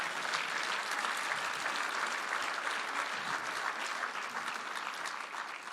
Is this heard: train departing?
no